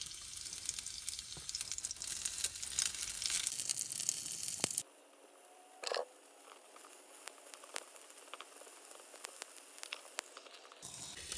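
Onions frying in a 6-inch mini cast skillet, a soft crackling sizzle that fills the first few seconds, then drops to a quieter, sparse spatter with occasional pops.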